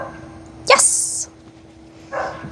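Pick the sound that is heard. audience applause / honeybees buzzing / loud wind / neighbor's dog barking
neighbor's dog barking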